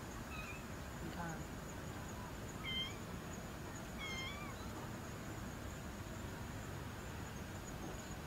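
A cat meows a few times in short, moderately clear calls against steady background noise, and no speech is present.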